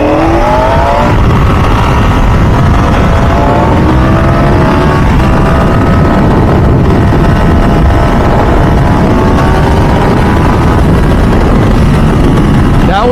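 A 2025 Ducati Panigale V4 motorcycle pulls hard through third gear, its engine loud and close with rising harmonic sweeps as revs climb, buzzy and continuous across the run with steady wind rush beneath.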